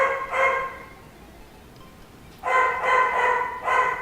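A dog barks in two bursts, a single yelp early on, then a run of several sharp barks close by, heard over a quiet room during a blackjack game.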